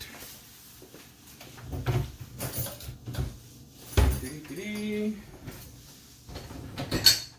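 Rummaging through kitchen cupboards and drawers in search of a Ninja blender cup, with scattered knocks, clatters and a clattering of dishes between pauses, close by and moderately loud, with a person talking over parts of it.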